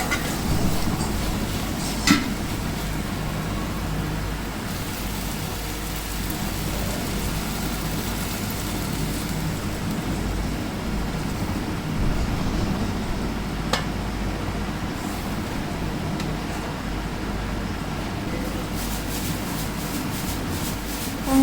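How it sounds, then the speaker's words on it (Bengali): Water for khichuri boils in a pot on the stove, a steady rushing, bubbling hiss that goes on evenly throughout, with a few faint clicks and no voices. "পানিটা ফুটে উঠছে"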